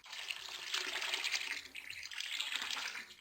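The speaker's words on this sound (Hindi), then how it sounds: "इसके अंदर अब हम पानी डाल देंगे।" Water pours into a pressure cooker holding lentils and grains, a soft, continuous splashing stream that stays steady for a few seconds, quiet and close, with no talking.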